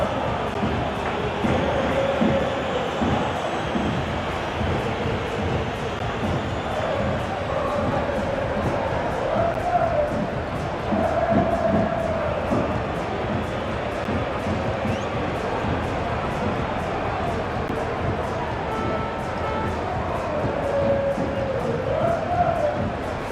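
A FIFA 23 stadium crowd cheers at full time in a Barcelona versus Real Madrid match, a sustained roar with swelling chants as a commentator talks over it.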